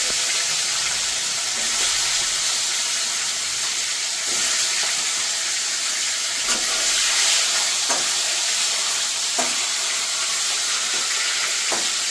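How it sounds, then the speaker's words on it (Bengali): Cumin seeds tempering in hot oil give a loud, steady, bright sizzling hiss that fills the whole stretch, with a few faint clinks and stirs and no voices. "জিরে ফোড়ন দিয়ে দিলাম"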